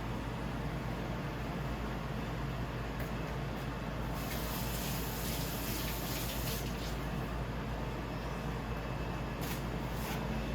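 Tap water running steadily while seafood boil ingredients are washed, a loud, constant gushing hiss that brightens partway through as the stream hits something, with no talk.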